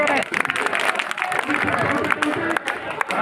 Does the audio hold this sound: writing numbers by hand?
no